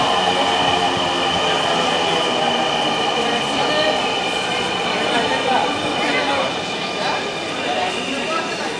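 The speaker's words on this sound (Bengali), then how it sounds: "আমাদের ট্রেন চলে এসেছে।" A Dhaka metro rail train pulls into a station, a loud, continuous rumbling roar with a high whine and faint squeal of wheels, steady throughout, with a voice speaking over it.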